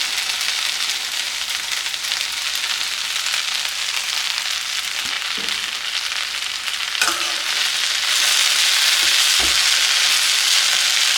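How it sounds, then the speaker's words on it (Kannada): Ivy gourd stir-fry sizzling steadily in oil over a low flame, with a few soft scraping stirs of a spoon through the pan, continuous and close, no voices. "ಲೋ ಫ್ಲೇಮಲ್ಲೇ ಇಟ್ಕೊಂಡು ಇದನ್ನ ಚೆನ್ನಾಗಿ ಮಿಕ್ಸ್ ಮಾಡ್ಕೊಳ್ಳೋಣ"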